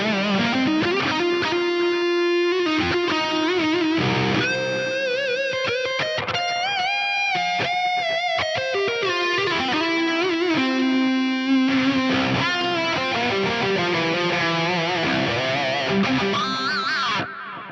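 Electric guitar played through a Fractal AX8 with a Tube Screamer-style boost and stereo BBD delay, sustained overdriven lead notes and chords ringing with lush echo trails, loud and continuous throughout.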